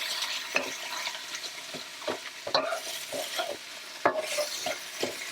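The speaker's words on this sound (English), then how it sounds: "We're going to stir them around." Vegetables are stirred in a sizzling pan: a soft fry hiss under repeated scraping and knocking strokes of a utensil against the pan, roughly every half second, close by and with no talking.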